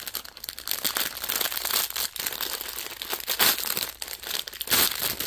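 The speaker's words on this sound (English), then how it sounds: "Apologize for the crinkling." Plastic packaging from cross-stitch floss drops crinkles and crackles up close, in continuous uneven bursts with no talking.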